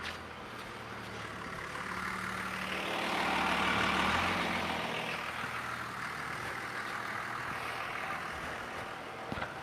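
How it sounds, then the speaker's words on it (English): A loud diesel truck passing, a broad engine rumble and roar that swells toward the middle and slowly fades while staying present throughout, with no speech. "that was a loud truck."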